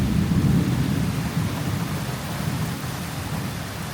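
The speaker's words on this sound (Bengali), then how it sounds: "ফাইনালি বৃষ্টি শুরু হয়ে গেল।" Steady rain pours with a deep rolling thunder rumble underneath, loud and continuous before gradually easing, with no voices.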